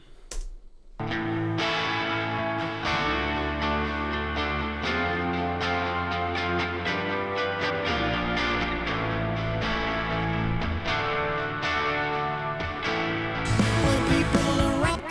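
Electric guitar drenched in echo and effects plays a sustained, swirling arrangement for the whole stretch, loud and layered, with a brighter burst near the end.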